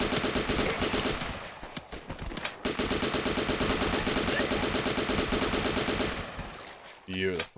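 Rapid automatic gunfire in The Last Stand, a zombie shooter game, rattles loudly and almost without a break, with short pauses between long bursts and a few lighter clicks near the end.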